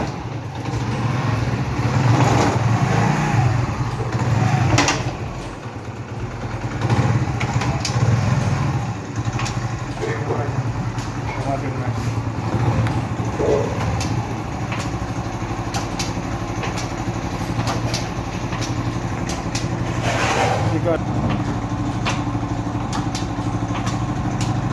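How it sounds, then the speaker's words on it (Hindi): A 70cc motorcycle engine runs at a steady idle right after a clutch plate replacement, a continuous close-up rumble with a few sharper mechanical ticks and no talking. "अब इस मोटरसाइकिल को मैं स्टार्ट करता हूँ"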